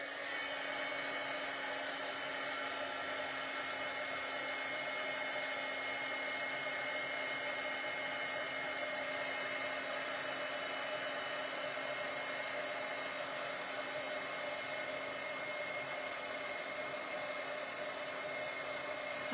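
A heat tool blows a steady, faint whooshing hum without pause while it melts embossing powder on a craft project.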